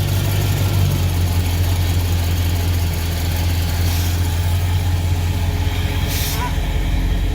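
A 1966 Pontiac Catalina wagon engine idles steadily up close, a continuous low rumble that holds even throughout, with faint workshop noise in the background.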